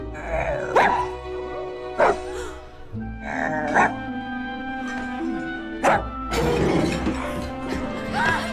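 A dog barks repeatedly in a film scene about a woman who turns into a dog at night, several sharp barks spaced a second or two apart, mixed with crashing and clattering noises.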